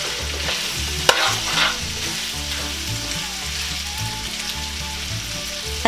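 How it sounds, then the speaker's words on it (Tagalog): Pork tripe with garlic and onion sizzles loudly in a hot pan, with steady stirring strokes scraping through the frying and one sharp knock of the utensil near the start. "hahaluin lang natin para mag-scattered yung amoy ng ating bawang at saka sibuyas doon sa ating pork tripe"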